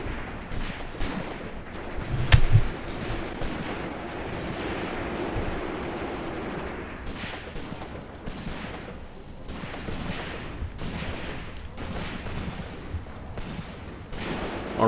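Artillery fire in the WW2 video game Graviteam Tactics Mius Front: a sharp loud boom early on, then a steady rumbling battle backdrop with scattered distant blasts and shots.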